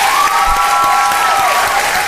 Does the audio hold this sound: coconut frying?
no